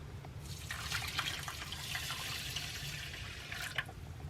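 Water pours and trickles steadily from a tap into a container to dilute a teaspoon of red curry paste in a home kitchen, a continuous splashing stream with a low hum beneath, no talking.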